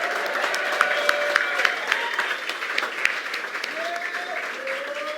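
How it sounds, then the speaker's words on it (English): Sustained audience applause at a South Bronx United annual benefit, steady dense clapping from a large crowd filling the room, with a few faint tones and murmurs underneath. "I think that deserves another round of applause"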